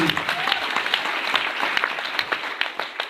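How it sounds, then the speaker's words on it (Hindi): Applause from an audience greeting honoured guests at a formal event in India, a steady dense clapping that holds throughout with sharper individual claps popping out near the front. "जोरदार तालियां की"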